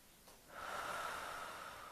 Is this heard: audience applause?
no